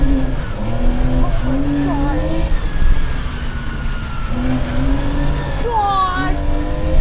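A 1987 Porsche 911 Carrera drives hard on a dirt road on a dairy farm, its engine revving loudly up and down, with tire noise and a brief skid near the end, and voices mixed under the engine.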